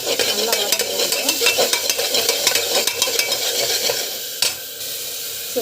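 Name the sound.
sautéing and stirring gravy in a pan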